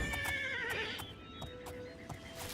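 A horse whinnies loudly and shakily, followed by a few hoof clops and thumps against a low background hum, in the video game The Elder Scrolls IV: Oblivion.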